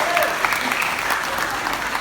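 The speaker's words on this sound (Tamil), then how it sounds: "மீண்டும் ஒரு கைத்தட்டல் கொடுங்க." An audience applauds at a music tribute event honoring actor Sivaji Ganesan, dense steady clapping filling the hall throughout.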